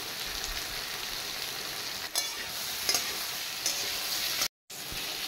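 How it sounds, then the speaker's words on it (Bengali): Potato and eggplant pieces sauté in hot oil with a pinch of turmeric, for a Bengali puti fish dish. A steady close sizzle runs throughout, with a few sharper stirring scrapes and one brief cut to silence. "এবার আলু আর বেগুন একটু সাঁতলে নিচ্ছি"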